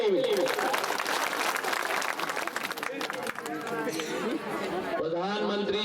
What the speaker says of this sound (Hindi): ताली बजा दो इसके लिए भी।